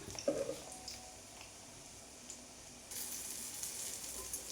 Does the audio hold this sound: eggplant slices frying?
yes